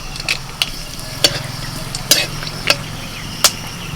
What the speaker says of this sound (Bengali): কড়াইতে প্রথমে দিয়ে দিচ্ছি সর্ষের তেল তেল গরম হয়ে গেছে দিয়ে দিচ্ছি তেজপাতা